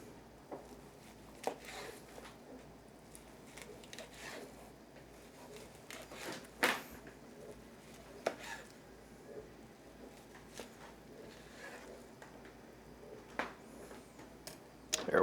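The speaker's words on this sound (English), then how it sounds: "We're going to take a sharp knife here. We're going to try and cut it so it doesn't fall apart." A sharp knife cutting through a smoked BBQ sushi roll, giving scattered soft slicing and tapping sounds against the board, fairly quiet and close, with short pauses between cuts.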